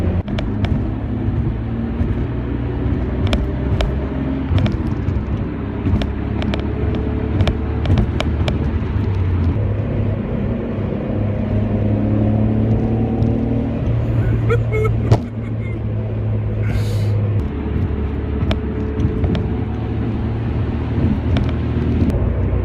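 A Nissan Skyline GT-R R32 drives along a road, a steady engine drone heard from inside with shifting tones as it changes gear, and wind and road noise throughout.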